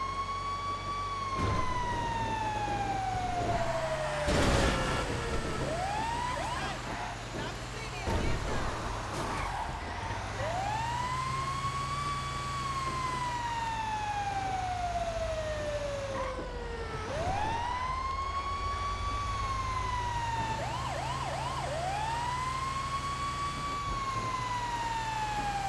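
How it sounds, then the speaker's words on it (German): A police-style emergency siren in the video game GTA 5 wails in repeated rising and falling sweeps over steady engine rumble, with brief clatters and occasional talk mixed in. "Machen wir die Sirene an."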